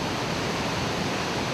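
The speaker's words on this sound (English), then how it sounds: "The waterfall is almost 1/3 as big as Victoria Falls, nearly 350 feet high" Aponwal Falls in Canaima, a waterfall nearly 350 feet high, makes a steady, dense, loud roar of falling water that stays constant throughout, with no voices.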